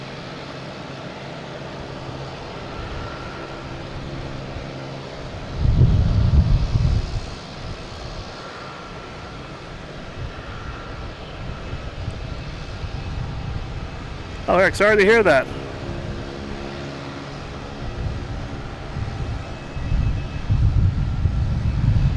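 Jet airliners at Boston Logan Airport on a gusty day, a steady distant engine roar with a few louder swells, heard under a person talking.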